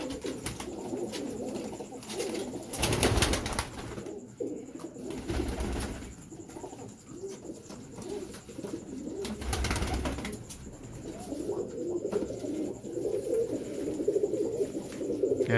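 Domestic pigeons, including a dome-headed breed, coo in low, soft repeated calls, close by in a loft, with occasional louder thumps and rustles of movement and no talking.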